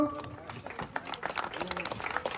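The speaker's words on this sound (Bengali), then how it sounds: "জোরে হাততালি ওর জন্য" An audience at a prize-giving claps for a small girl receiving her award, a scattered patter of applause mixed with a speaker talking over it.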